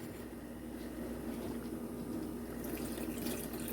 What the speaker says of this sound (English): So I'm going to add some more water to this,